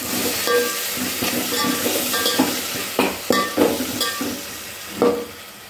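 Yogurt being stirred into egg biryani masala in a pan, with a gentle sizzle beneath and repeated scraping and clinking strokes of a spoon against the pan, a few louder knocks standing out, no talking.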